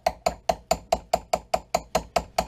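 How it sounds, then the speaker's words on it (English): A small neoprene brass hammer drives a punch against the rear dovetail sight of a Glock 22 in .40 S&W, giving about a dozen sharp, evenly spaced close taps at a brisk, steady rhythm. "I've got a little neoprene brass hammer that come in my AR kit. And then we're just going to start to tap that rear dovetail out."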